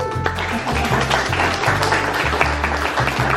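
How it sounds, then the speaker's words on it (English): An audience at a digital nomad week event applauds, a continuous spread of clapping heard alongside low tonal music pulses with a repeating rhythmic pattern underneath. "Round of applause, please."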